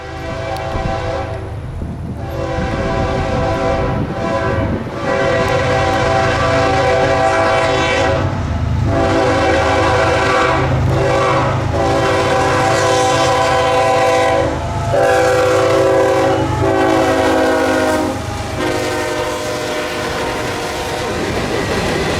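Kansas City Southern freight train rolls through town, sounding a loud horn in long repeated blasts over the rumble and clatter of passing cars, close by and continuous.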